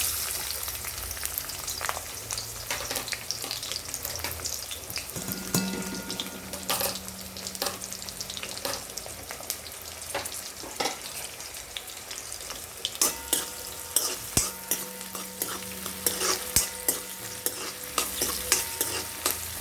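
Onion pieces fry in hot oil in a pan, a steady crackling sizzle broken by frequent stirring scrapes and clinks from a spoon against the pan, with no talking throughout.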